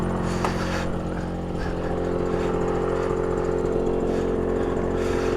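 A barn-find Suzuki X7 motorcycle with a badly slipping clutch rides along, its engine a steady, close buzzing drone with a constant note and faint flutters of revving throughout, no voices.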